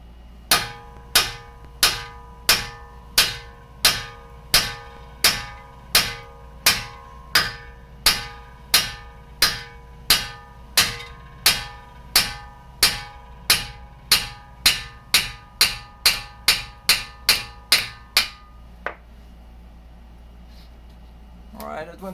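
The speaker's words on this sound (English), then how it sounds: "We just keep hammering." Repeated hammer blows knocking a stuck axle out of a car during transmission work, about thirty sharp metallic strikes in a steady rhythm, loud and close, with no talking.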